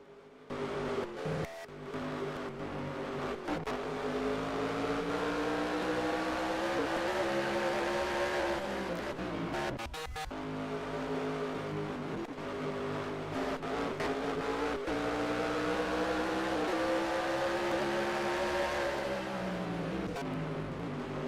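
Race trucks lapping North Wilkesboro in a racing video game, a loud steady engine drone with rising and falling pitch as trucks accelerate and pass, continuous throughout with no talk.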